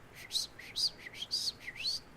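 A person whistles an imitation of a small bird's call outdoors: five short, high chirping bursts in an even rhythm, fairly clear and close, with no talking.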